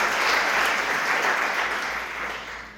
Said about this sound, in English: I think that deserves a large round